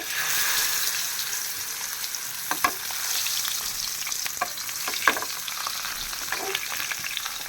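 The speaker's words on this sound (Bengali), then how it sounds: "এখন আমি মাছটা ভাজবো আর মাছ ভাজার জন্য আমি সরিষার তেল নিছি" Hilsa fish pieces fry in hot mustard oil with a steady, loud broadband sizzle and crackle, while occasional sharp pops and utensil clicks break through the continuous hiss.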